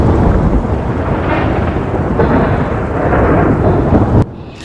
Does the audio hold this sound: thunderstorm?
yes